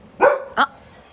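Two quick, sharp dog barks close by, one after the other, then quiet.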